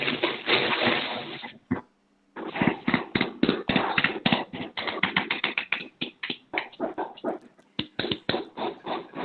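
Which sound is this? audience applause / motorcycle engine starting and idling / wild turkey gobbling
audience applause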